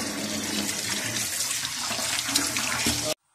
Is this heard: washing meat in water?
yes